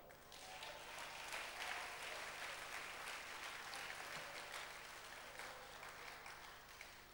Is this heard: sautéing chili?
no